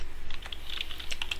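Quick light clicks of a computer keyboard as an SQL query is typed, a short close burst of about a dozen keystrokes in uneven rhythm.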